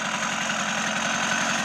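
A small engine idles steadily after starting, with a rapid, even putter and slight knock, close and continuous, burning off excess oil that had been put in the crankcase.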